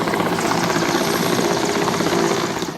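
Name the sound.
helicopter hovering during rope rescue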